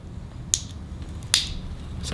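Two sharp, short cracks a little under a second apart come from a transponder key's chip jacket being twisted and broken out. They sound small and close, followed by a faint third snap.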